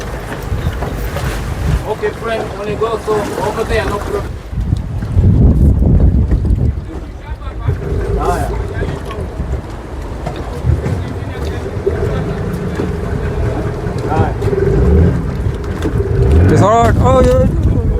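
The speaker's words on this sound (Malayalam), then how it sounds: "നമ്മുടെ ബോട്ട് തള്ളി നീക്കുകയാണ്" Boat being pushed off into open sea water near Prison Island, Zanzibar, with loud wind buffeting, sloshing waves and hull noise throughout, and people talking over it.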